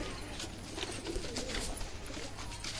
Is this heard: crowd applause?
no